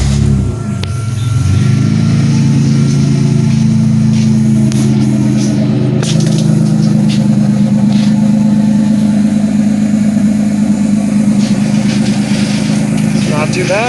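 A 1999 Buick Regal GS turbo with 3-inch dual straight pipes idles steadily with a deep, constant rumble, close and loud throughout, while people talk over it.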